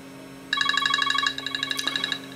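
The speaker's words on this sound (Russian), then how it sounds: "вот мне звонят" An incoming call sets a mobile phone ringing indoors, a bright, rapid, pulsing electronic ringtone that starts suddenly and repeats loudly with no talk over it.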